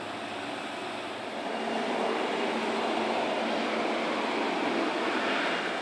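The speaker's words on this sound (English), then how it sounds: "The shorter class ATR 1152 car version can be seen working here on the branch on a train bound for Edolo" A short ATR 115 two-car railcar runs along a branch line toward Edolo, its steady broadband rumble and rush building slightly and holding loud throughout.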